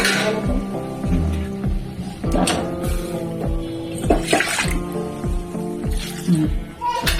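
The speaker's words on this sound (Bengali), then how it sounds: "গরম জল একটু দিয়ে দিই এটাও গরম জল আছে" Hot water poured into a cooking pot of catfish curry with bottle gourd and vegetables, a sloshing gush with clinks and knocks, close and busy, under some background talk.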